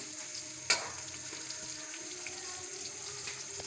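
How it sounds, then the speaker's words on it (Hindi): Onions fry in half a cup of oil in a pan, a faint steady hiss and sizzle with a sharp clatter near the start, quiet and close. "अब इसमें प्याज डालेंगे और प्याज को फ्राई करेंगे।"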